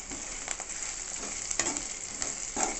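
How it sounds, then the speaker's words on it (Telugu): Spices sizzle steadily in hot oil in a pan for a buttermilk curry, with a constant frying hiss broken by a few brief stirring scrapes; no voices. "ఇలా వేయించుకోవాలి. ఇలా వేయించుకుంటున్నాను నేను."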